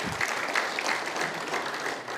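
A crowd at a religious sermon claps steadily, a dense, continuous patter of applause holding at an even level throughout.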